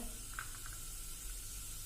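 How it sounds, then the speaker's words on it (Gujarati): Chilli pieces sautéing in hot oil for instant khaman tempering, giving a steady close sizzle with a few brief crackles and no voices. "આ મરચાના કટકા કર્યા છે એ નાખી દેશું અને એને આપણે થોડાક સાંતળવા દેશું."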